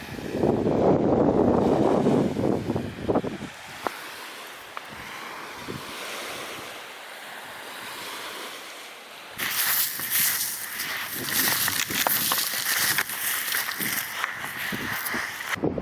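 Waves wash steadily onto a big Lake Superior beach at Terrace Bay, Ontario, a continuous rushing surf mixed with buffeting wind noise on the microphone that drops briefly then returns stronger.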